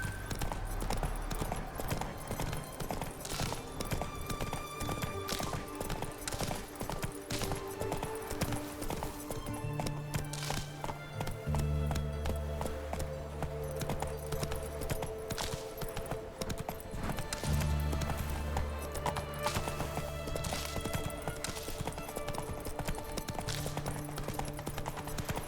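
A horse's hooves clip-clop at a steady gallop in the video game The Witcher 3, continuous and moderately close, layered over game music with occasional louder thuds.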